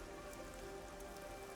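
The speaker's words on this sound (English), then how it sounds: "I'm starting to feel like the rain isn't so bad." Constant rain in Rain Code Plus, an even hiss of drops on surfaces that holds steady throughout, with a soft tonal hum underneath.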